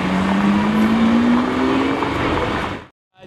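A V10 supercar in a city convoy roars past at close range with a loud, rising engine note that builds and then cuts off abruptly near the end.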